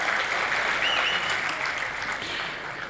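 An audience at a mimicry performance claps loudly, a dense, continuous round of applause that fades slightly over a few seconds.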